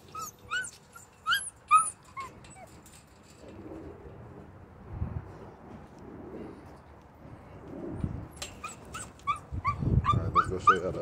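Puppies in an outdoor kennel yap and bark in quick bursts at the start and again near the end, with soft whimpering and low rustling in between, heard fairly close.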